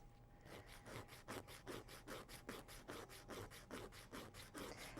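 A nail file rasps back and forth, tapering the corners of a nail in a steady rhythm of about twenty close, even strokes, quiet but distinct, with no talking.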